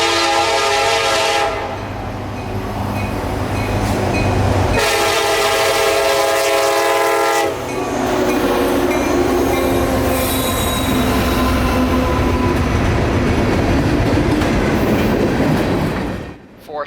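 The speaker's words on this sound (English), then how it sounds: "Q452 is right behind, slowing down for the north end of the siding stop" Freight train Q452 rolling through a siding at close range, loud sustained wheel squeal and grinding across the cars, with a blast of horn tone in the middle and steady rumbling clatter underneath.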